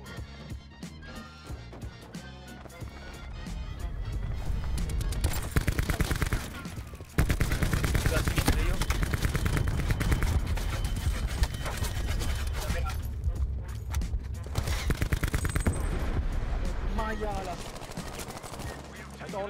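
Rapid bursts of video game gunfire crackle through a dense, busy mix of game sound, with a brief sharp hit near the middle and a steady loud level throughout.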